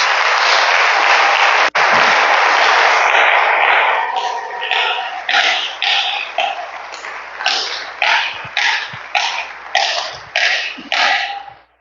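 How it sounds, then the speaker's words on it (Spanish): A church congregation applauds during a Spanish-language sermon, at first with dense sustained clapping, then with strong rhythmic claps in unison, loud and close. "Levántale un aplauso a Dios."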